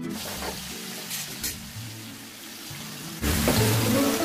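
Bay leaves, cardamom, cumin powder, onion paste and salt frying in hot oil, with sizzling and scraping that rises to a louder, fuller sizzle partway through.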